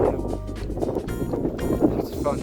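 Strong gusty wind buffets the microphone on an exposed hilltop along the West Highland Way, a dense, roaring rush with no voices over it.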